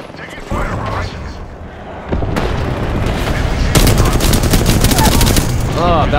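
Gunfire in the Apex Legends video game: loud, rapid automatic bursts crackle continuously over a rumbling battle backdrop, close and intense throughout.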